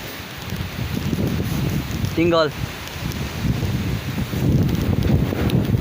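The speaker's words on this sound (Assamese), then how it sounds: "ফাগুনৰ একদম পচুৱা বতাহ মাৰিছে" Strong spring wind before a hailstorm buffets the microphone in loud, uneven gusts, with rustling and a brief high chirp partway through.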